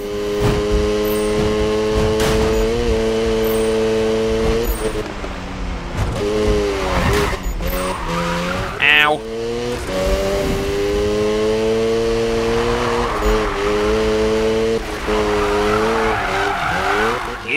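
A Rocket Bunny Mazda RX-7 Spirit R drift build in Need For Speed 2015 roars continuously at high revs, engine pitch rising and dropping through gear changes with squealing tires, loud and steady throughout.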